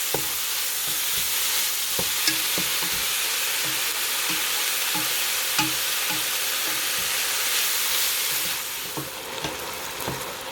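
Ground beef and Italian sausage brown in a pan with a loud, continuous sizzle, close and steady throughout, with occasional small pops and stirring scrapes and no voices.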